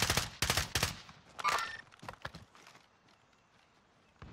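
Gunshots in Call of Duty: Modern Warfare ring out as a few sharp, loud cracks early on, then thin out to quieter scattered pops and movement.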